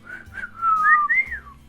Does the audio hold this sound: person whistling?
yes